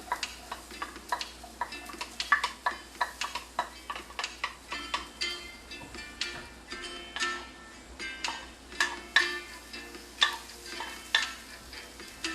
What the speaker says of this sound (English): Once the butter starts sizzling, that's the time to throw the onions in.